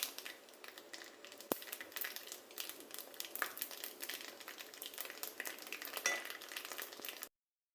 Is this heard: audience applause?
no